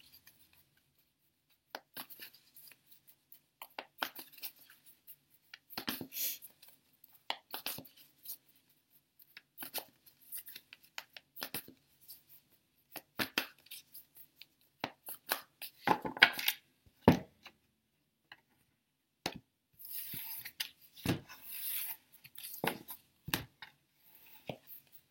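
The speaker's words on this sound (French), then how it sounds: "on mélange les cartes" Tarot cards from an angel tarot deck being shuffled by hand, a scatter of soft, papery riffles and taps coming in irregular bursts, close and fairly quiet, with brief pauses between handfuls.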